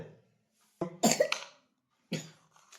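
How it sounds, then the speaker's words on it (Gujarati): Someone coughs close by in a few harsh bursts, with quiet pauses between them and no other sound. "આ તારે ઉધરસ થઈ ગઈ છે ને"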